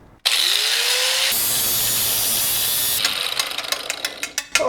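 A power tool cuts through the blow-off valve pipe on a turbocharged car, a steady loud whine near the mic for a few seconds, then dropping to a rougher grind that breaks into sputtering, uneven bursts as the cut finishes.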